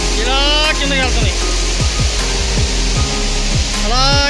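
Water rushes steadily down a small waterfall at Kothapalli, a loud, constant broadband roar filling the scene while someone talks over it.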